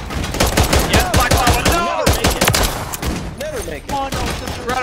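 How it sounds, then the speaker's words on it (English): Rapid bursts of cover-fire gunfire ring out in a snipers-versus-runners video game match, dense overlapping shots in quick succession with voices talking over them. "Incredible work with that cover fire."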